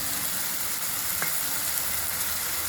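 Masala of red chilli powder, coriander powder, biryani masala and turmeric being stirred into a frying egg biryani base, giving a steady soft sizzle with faint stirring scrapes throughout.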